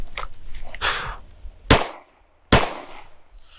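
Pistol gunshots during a dot torture shooting drill: two sharp, loud cracks about a second apart, each with a brief ringing tail, preceded by softer handling clatter.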